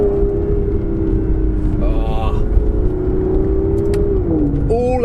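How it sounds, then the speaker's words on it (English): An Aston Martin Vanquish with a One-77-derived exhaust system drones steadily while driving, with a few faint crackles and pops under someone talking over the engine. "you can really hear that 177 derived exhaust system crackling"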